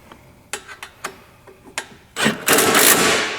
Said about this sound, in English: Now, when you have a heavy duty impact driver like this one, it's literally set to level 3.